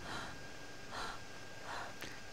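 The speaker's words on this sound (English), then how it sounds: "You can hear a panting to indicate that you are running and not walking." A running character in Ark: Survival Evolved pants in three rhythmic breathy gasps spaced roughly a second apart, over a soft game background hum.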